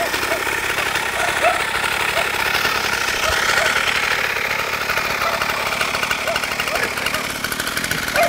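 A mini motorcycle engine buzzes steadily at high revs, loud and close throughout, with voices talking and exclaiming over it.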